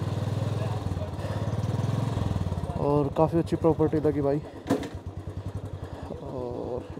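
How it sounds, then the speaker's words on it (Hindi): A motorcycle starts and settles into a steady running idle with rhythmic engine pulses and a few clattery thumps, recorded close by outdoors, while someone speaks over it. "तो 2 मिनट में बाइक कैसे स्टार्ट कर देता हूँ एक बार"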